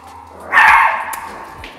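A small dog barks in one short burst, a sharp, fairly close yap standing out briefly against a quiet indoor background.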